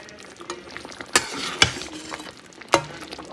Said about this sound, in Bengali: এবার ঘি আর গরম মশলাটা মিশিয়ে দিচ্ছি।